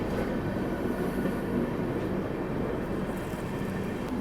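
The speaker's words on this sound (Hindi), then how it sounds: "यहाँ पे किसी ट्रेन को ओवरटेक कर रहे हैं भैया" Mizoram Rajdhani Express overtaking another train, heard from on board as a steady, dense roar of wheels and rushing air that holds evenly loud for the whole stretch, with no voices.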